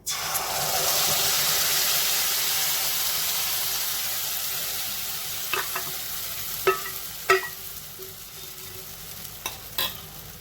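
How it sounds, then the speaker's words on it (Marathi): Roasted fasting bhajani flour mix is stirred into hot ghee with crackling cumin. A loud, bright sizzle gradually settles, and a few sharp scrapes and clicks of the spoon against the pan follow. "आता हे जे आपण भाजणीचं मिश्रण तयार करून ठेवलं तर ते आता त्याच्यामध्ये घालूया."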